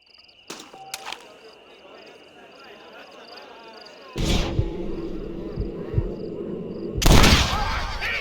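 Gunfire rings out during a Red Dead Redemption mission: two sharp shots sound early against an insect-filled outdoor ambience, then louder, heavier blasts follow near the middle and the end.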